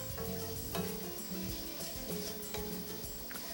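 Vegetables for a Tuscan peasant soup cook in a pan, giving a continuous sizzle with stirring clatter and light knocks, close and at moderate level, with no speech.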